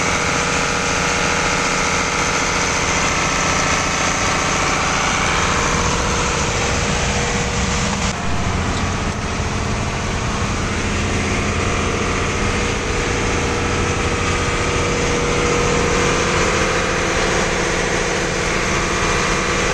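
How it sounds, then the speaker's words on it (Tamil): Boat engine running at sea near Nainativu and Neduntheevu drones loud and steady throughout, a constant close-up rumble with unbroken vibration and no talk. "ஐயா இன்ஜின் ஓடி பண்ணுறேன்"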